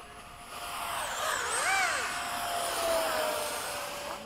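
F-16 and F/A-18 fighter jets pass overhead at Bayside, a broad roaring rush that swells and falls with a brief rising-and-falling whine as they go by, moderately loud and steady.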